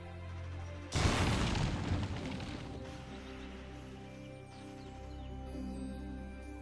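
A sudden loud mortar cannon boom in the video game Valkyria Chronicles that rumbles and decays slowly over several seconds, with no voices.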